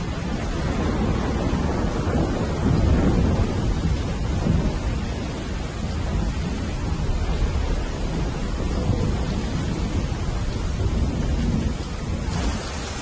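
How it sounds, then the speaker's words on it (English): A thunderstorm with heavy rain in the Amazon forest, a dense steady roar of rainfall with low thunder rumbling through, loud and continuous for the whole stretch with no voices. "the champion wrestler Chumin tries to brave the oncoming storm"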